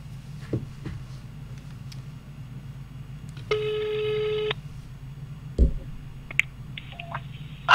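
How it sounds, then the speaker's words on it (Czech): A telephone call to a mother: a single outgoing ring tone plays for about a second amid quiet room noise, with a few soft clicks and beeps before and after it. "Tak, jdeme zavolat mámě."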